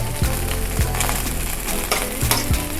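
Oven-baked honey garlic chicken wings being flipped in a hot pan, a constant loud sizzle broken by several low thumps and knocks as pieces are turned, with no talking.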